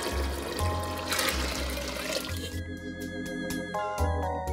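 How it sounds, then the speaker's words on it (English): Water pours from a tap or jug into a pot for Caribbean-style vegan split pea soup in a home kitchen, a close gurgling stream for about two seconds before clinks and quieter handling sounds. "So I'm just adding some water now."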